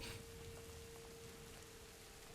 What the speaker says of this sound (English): Suddenly it rains.